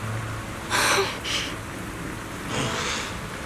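Steady rain falls in Zenless Zone Zero, a soft continuous hiss broken by a few brief, louder gusts of spattering water.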